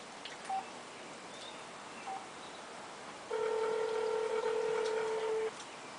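Telephone keypad tones as a number is dialed for a prank call: a few short beeps, then a sustained tone lasting about two seconds, over a steady background hiss.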